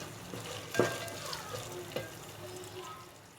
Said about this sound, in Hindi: तकरीबन 5 मिनट तक मुझे इसे फ्राई करना है।